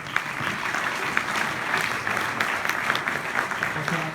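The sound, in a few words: audience applause at awards ceremony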